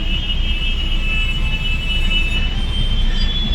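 A loud, steady rumble of a metro train at Jivraj Park metro station, with a high metallic whine running through it and no talking.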